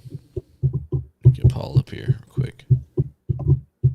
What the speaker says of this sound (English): I just tapped the stand that my mic's sitting on